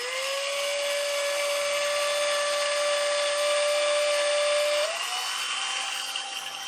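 A drill bores a pilot hole into an Atari 7800 console case, with a steady high whine held close and loud that shifts up in pitch near the end as the bit breaks through, then runs on briefly.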